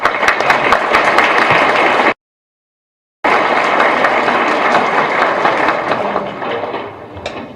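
An audience at a formal academic event applauds a guest speaker, a dense crowd of hands clapping in a room that cuts out for about a second, then resumes and gradually thins out.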